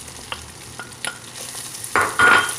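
Sun-dried beef (carne de sol) goes into a pan with sautéed garlic and onion: a few light scrapes and taps, then a sudden loud sizzle that swells near the end.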